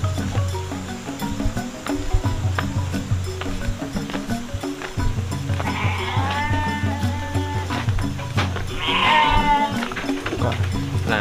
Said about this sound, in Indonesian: Kandang kambing ya, jadi kok agak-agak sedikit berisik, mohon dimaklum.